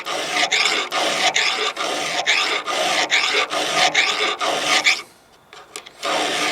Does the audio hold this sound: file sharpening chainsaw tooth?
yes